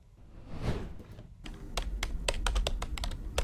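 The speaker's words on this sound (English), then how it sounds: "Are you typing?" Rapid clicking of a computer keyboard as someone types during an online marketing session, starting after a brief soft whoosh and continuing as a steady, fairly close run of keystrokes with no talk.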